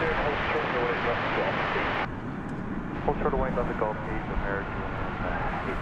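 An American Airlines Flight 8 Boeing 787-8 Dreamliner, in from Hawaii, roars steadily at DFW after dark, a loud broadband jet rush that dips slightly partway through, with faint voices underneath.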